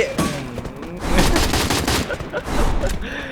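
Rapid bursts of gunfire from the Free Fire battle-royale video game, loud and dense, with overlapping shots rattling almost continuously and no pause.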